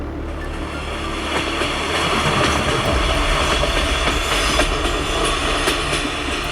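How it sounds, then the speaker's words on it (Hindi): A passenger train rolls along the rails with a loud, continuous rumble and faint clickety-clack, heard from aboard as it gets under way. "ट्रेन शुरू हो गई।"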